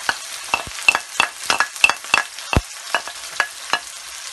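Onions and green chillies frying in oil in a pan, with repeated close stirring scrapes and soft sizzling in an irregular rhythm, one heavier knock near the middle.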